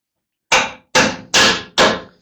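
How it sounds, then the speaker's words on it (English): Four solid knocks of a rubber mallet tapping a bolt through the front suspension of a 1974 Chevrolet Nova, evenly spaced and close, with short decays and no talk. "Rubber mallet, there she is."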